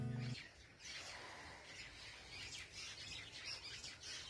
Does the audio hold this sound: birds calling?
yes